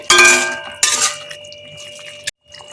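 A metal lid is set onto a pot of Bengali-style prawn biryani on a gas stove, giving two loud ringing clangs close together followed by a fainter tap and a lingering metallic hum.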